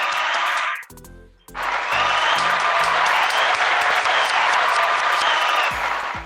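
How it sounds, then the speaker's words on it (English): A studio crowd bursts into loud, sustained applause with cheering, briefly dipping after a moment before swelling again and carrying on steadily to the end. "And the crowd goes wild!"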